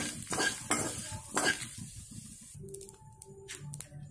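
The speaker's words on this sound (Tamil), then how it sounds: "நல்லா வதங்கட்டும்" Vadacurry ingredients sautéing in a pan, with a steady sizzle and repeated close, scraping stirs of a spatula against the metal, loud at first and then easing into quieter frying with occasional clinks.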